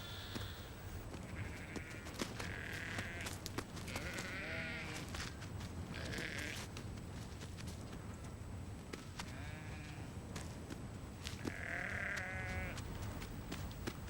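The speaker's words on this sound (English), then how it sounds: "Their fat-tailed sheep, called karakuls, graze the desert vegetation." Fat-tailed karakul sheep graze in the Karakum desert, a flock bleating repeatedly at varied pitches, some calls near and loud and others farther off, over a constant background hiss.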